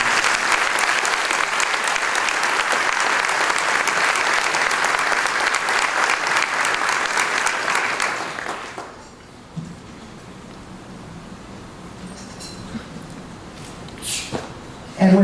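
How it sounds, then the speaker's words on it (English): An audience applauds loudly and evenly for about eight seconds, then the clapping fades out, leaving quiet room noise with a few faint shuffles. "Let's give them a great round of applause."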